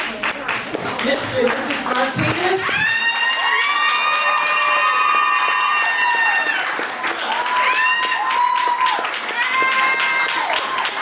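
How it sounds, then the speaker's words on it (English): Audience at a masquerade gala gives a standing ovation, dense applause and cheering building from a noisy start and sustained loudly, with an announcer's amplified voice speaking over the crowd. "help me rise to your feet and give a hand clap"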